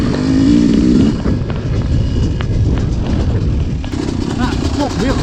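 A Yamaha YZ250 two-stroke dirt bike revving hard while being ridden, a loud continuous engine roar with wind buffeting close to the rider, the pitch shifting as the throttle changes.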